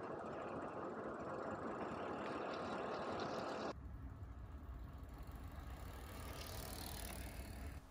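Riding a bicycle with a tiny action camera mounted, steady broadband wind and road rush fill the whole stretch and drop in tone partway through as the ride continues, with no talking.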